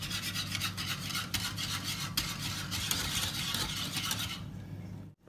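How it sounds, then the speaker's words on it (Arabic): A spoon scrapes and rubs steadily through a thickening chocolate cream mixture in a pot for cake filling, a continuous close rasping stir that stops abruptly at the end, with no talk. "ونبقاو نداومو في التحريك حتى نحسوا بها تحت يدينا بدات تختار"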